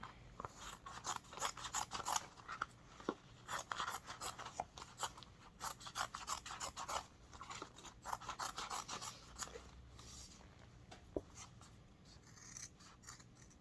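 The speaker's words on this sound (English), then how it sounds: "I'm just using regular Fiskars scissors" Regular Fiskars scissors cut out embroidered fabric for a strawberry coaster, close crisp snips in quick irregular bursts with short pauses between runs.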